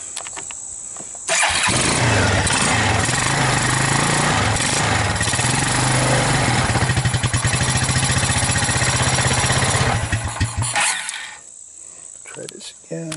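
A Suzuki KingQuad 300 ATV, found abandoned and fitted with a new battery and air cleaner, cranks and fires up with the choke on, then runs loud and close for about ten seconds before dropping toward idle.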